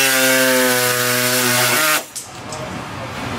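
Power-tool cutting or sawing while trimming a part to fit an AEV snorkel on a Ram 1500, a steady loud buzzing whine for about two seconds that stops abruptly, followed by quieter handling noise.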